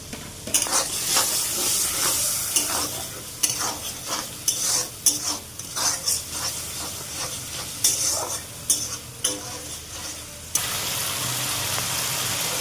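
Spice masala for a chapila fish curry frying and being stirred in a pan, a steady loud sizzle broken by repeated scraping stir strokes, with clinking utensil taps; no talking.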